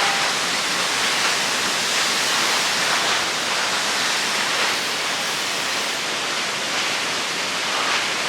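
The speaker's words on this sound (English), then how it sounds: "let's check out these waterfalls" Waterfall at Fitzroy Falls, a steady unbroken roar of rushing water, broad and constant throughout with no voices.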